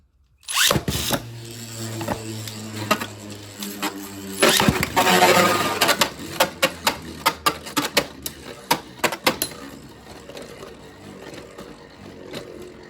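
A Prominent Phoenix Beyblade, set to clockwise spin, is launched and circles a stadium in battle. A busy mechanical whirr with a sharp burst midway is followed by a run of loud clacking collisions that gradually thin out.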